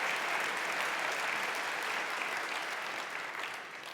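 An audience at a CSS conference talk applauds with dense, even clapping that holds steady, then eases off slightly toward the end.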